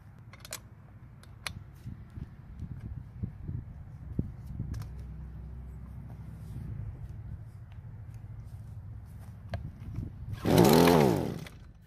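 A Husqvarna string trimmer, stored with fuel in the tank and primed through the spark plug hole, catches near the end and runs loudly for about a second with a rising, revving engine note after quiet shuffling and handling noises.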